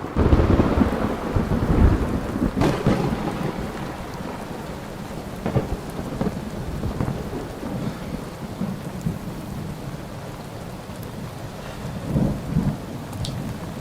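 Rain falls steadily in the video game Breath of the Wild, a constant hiss under several low rolling thunder rumbles and sharper cracks spread across the scene.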